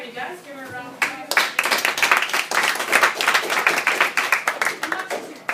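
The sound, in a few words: class applauding the guest speaker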